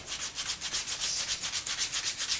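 Sandpaper rubbed back and forth over a wooden bow near the handle shelf in quick, even strokes, a close, rhythmic rasping with no speech.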